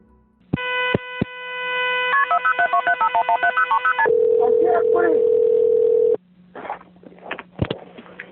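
A telephone places a 911 emergency call: a steady dial tone is broken by a few clicks, a quick run of keypad tones follows, then a long ringing tone, and faint scattered noises come after.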